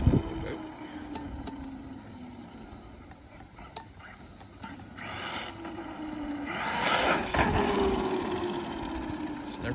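A Traxxas Maxx 4S RC truck runs on a slick, rain-wet road at night, its motor whining up and down in pitch with bursts of acceleration over steady wet hiss, close by and moderately loud.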